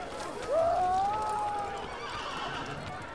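A horse in the Assassin's Creed video game gives a single rising whinny that holds for about a second, with hoof clatter and game ambience continuing underneath.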